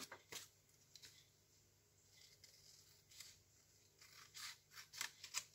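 Scissors cutting paper along a drawn line for a pouch template, a series of close, crisp snips at an irregular rhythm, about a dozen cuts growing busier toward the end.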